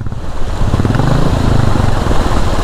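An off-road motorcycle on a mountain track near a water crossing holds a loud, steady throttle with a low rumbling drone and a slight pitch rise, close by and without talk.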